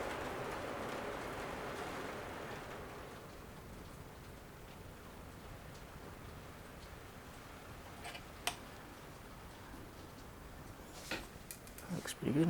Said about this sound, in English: It's actually raining at the moment outside.